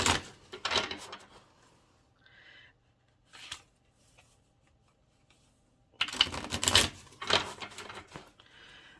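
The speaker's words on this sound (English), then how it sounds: "I'm just going to give these a bit of a shuffle here." A deck of tarot cards is shuffled in short bursts of close, crisp riffling and flicking, with quiet pauses between the bursts and a longer, louder round of shuffling near the end.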